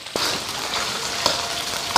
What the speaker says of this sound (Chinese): 将就煎豆腐的油，下切好的猪肉